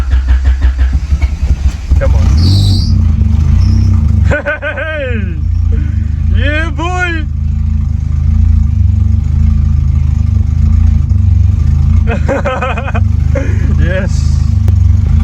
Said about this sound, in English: So it's idling like that because it doesn't have gas